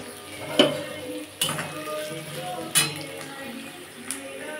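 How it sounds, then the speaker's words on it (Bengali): Potatoes, onions and tomatoes frying in a pan for a ghugni, a soft continuous sizzle under repeated metal spatula scrapes and clinks against the pan, near and fairly quiet. "আমি এবার টমেটোগুলো দিয়ে দেবো, দিয়ে আবার ভাজবো।"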